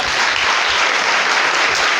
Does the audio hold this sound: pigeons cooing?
no